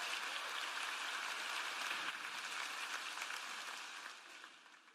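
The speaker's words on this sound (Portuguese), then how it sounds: "dê um aplauso para eles" A church audience gives a sustained round of applause, with a steady wash of clapping heard from a distance that holds evenly and then tapers off near the end.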